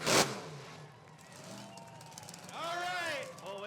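A monster truck at a freestyle show at Rockford Speedway revs for a burnout, its engine note rising and falling loudly after a sharp bang at the start. A crowd and voices are heard in the background.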